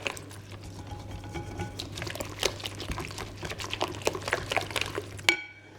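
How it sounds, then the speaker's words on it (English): Bread dough is stirred by hand in a big mixing bowl, giving wet, sticky scraping and knocking sounds in an uneven rhythm, close and fairly clear, with no talking. "So give it a good stir."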